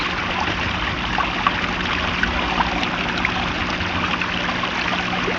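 A small homemade landscaping waterfall trickles with a steady, close, even splashing wash of water that continues without pause.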